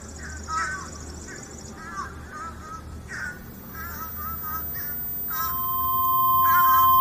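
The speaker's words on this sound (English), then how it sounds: "The birds are loud." Crows caw loudly near a Corvette restoration workspace, repeated harsh calls in uneven bursts over a low background hum, with a steady tone creeping in toward the end.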